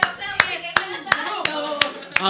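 Clapping for the winner of a Spanish-language podcast game: sharp, evenly spaced claps about every third of a second, close and loud, with a voice running underneath.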